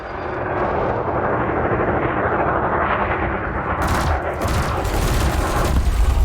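Spaceship multi-cannons and lasers in Elite Dangerous fire in a sustained loud volley, heavy rumbling shots layered with sharper crackling bursts toward the end, close and continuous without talking.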